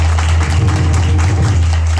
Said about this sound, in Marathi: म्हणून त्यांच्यासाठी टाळ्या वाजवा.